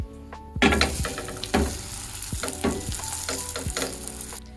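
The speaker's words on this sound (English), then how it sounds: "then put it on the pan so that our cheese will melt nicely" A folded cheese tortilla sizzles loudly in a hot pan, the frying hiss broken by several sharp scrapes and clinks as it is pressed and moved around, with no voices.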